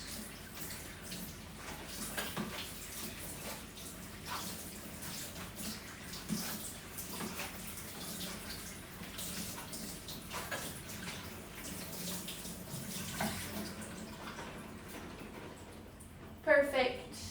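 Food is rinsed and squished by hand under running water, a soft continuous splashing with faint squelches throughout, with a clatter near the end.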